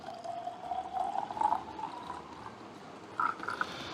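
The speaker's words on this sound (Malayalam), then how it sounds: "ഞാനൊരു ടു ഫിഫ്റ്റി എം എൽ എണ്ണക്കാക്കി ഒഴിക്കുന്നുണ്ട്" Homemade raisin wine is poured into small 250 ml bottles, a faint, steady trickle with a rising pitch as each bottle fills, followed by a few brief gurgles.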